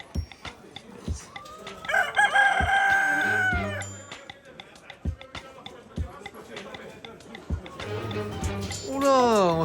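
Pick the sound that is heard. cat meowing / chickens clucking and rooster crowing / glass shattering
chickens clucking and rooster crowing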